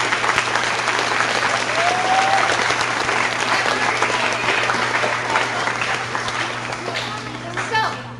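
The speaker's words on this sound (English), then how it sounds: "Please give this cast another huge round of applause." A theater audience at a Johnny Appleseed stage production applauds the cast in a long, full round of clapping that tapers slightly near the end, with a low steady hum and some chatter beneath it.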